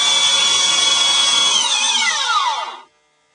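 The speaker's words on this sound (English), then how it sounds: "you just fire up your belt sander here, or you could use sandpaper, but I like the belt sander" A belt sander runs at full speed on the bottom of a small piece for a travel-sized Homeworlds game set, giving a loud steady whine that drops in pitch as it winds down and stops.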